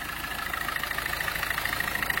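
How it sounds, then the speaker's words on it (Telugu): A 2016 Maruti Suzuki Ciaz idles steadily, with a quiet, even rhythmic engine hum and a faint regular ticking pulse throughout. "దీని ఇంజన్ అయితే ఆన్లో ఉంది"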